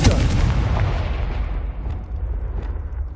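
A Confringo blast spell going off in a Hogwarts video game, one loud booming explosion that fills the moment and then rumbles and decays over a few seconds, no voices.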